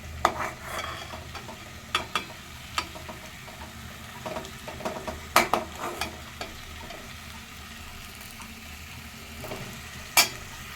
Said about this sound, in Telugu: టమాటాలు ఫ్రై అవుతున్నాను